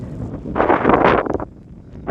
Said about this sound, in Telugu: గాలి అయితే బీభత్సంగా ఉంది